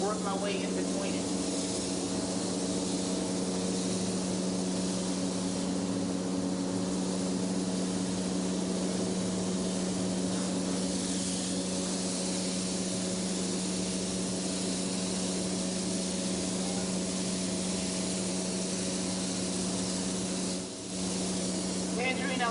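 An airbrush sprays paint for flame artwork on a Hummer, a continuous close hiss that holds steady with a low hum underneath and a brief dip near the end.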